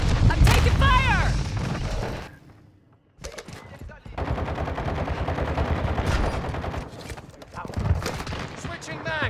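Call of Duty gunfire: loud bursts of automatic and single shots with booms, briefly pausing before rapid fire resumes, with voices talking over the action.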